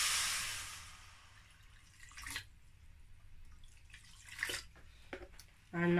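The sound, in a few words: water being poured into a cooking pan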